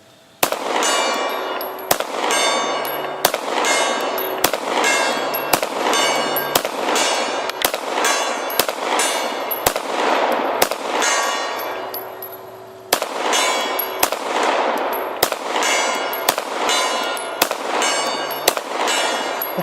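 A CZ 75 pistol firing 115 grain ammunition at steel gong targets outdoors: about a dozen sharp, loud shots at a steady unhurried pace, each followed by a bright ringing clang from the struck steel.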